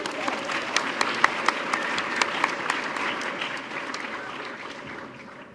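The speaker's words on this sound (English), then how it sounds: "A big round of applause for Ankit." Audience at a community foundation scholarship awards event applauding a recipient, steady dense clapping at moderate distance for several seconds, gradually thinning out toward the end.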